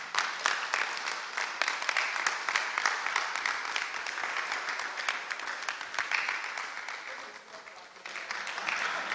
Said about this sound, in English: Don't stop clapping, if not, he will sit.